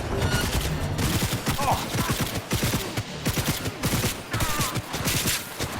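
Rapid gunfire from the shooter game Cyberpunk 2077 crackles in dense, loud automatic bursts of repeated shots with brief pauses, close and continuous with no talking.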